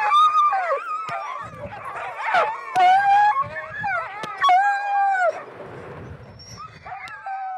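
Sled dog puppies whimper, whine and yip continuously in high, wavering cries, close and overlapping, with a few sharp knocks among them and a quieter stretch near the end.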